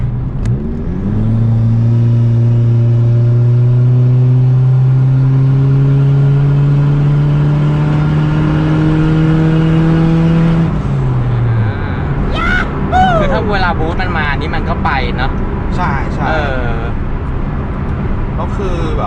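Turbocharged automatic Honda Jazz GK rated 177 hp revs up loudly with a rising engine whine that holds, then drops away to idle, close by, while someone talks over it.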